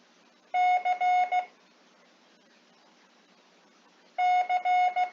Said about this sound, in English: keep saying the ditty as you hear the CW sound for the letter C